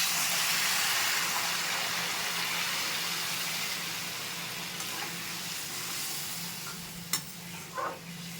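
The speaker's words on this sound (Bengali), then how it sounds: "এবার গরম জল দিয়ে দিচ্ছি।" Hot water poured into a pot of spiced taro and potatoes, a steady broad hiss and sizzle that slowly eases, with a couple of faint clinks near the end.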